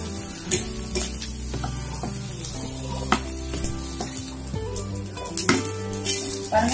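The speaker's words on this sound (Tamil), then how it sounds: "மிளகு, சீரகம், பூண்டு அப்படின்னாலே அரைகளோட சேர்க்கணும். இது நல்லா வாசனை வர வரைக்கும் வறுத்து" Pepper, cumin and garlic fry in a pan with a soft, steady sizzle, broken by occasional light clinks and scrapes from stirring, heard close and moderately quiet with no talking.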